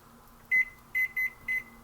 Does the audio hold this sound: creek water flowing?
no